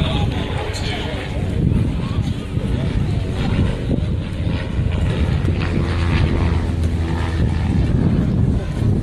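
Vintage propeller aircraft flying at the East Fortune airshow in 2017, a steady, loud engine drone with wind buffeting the microphone throughout.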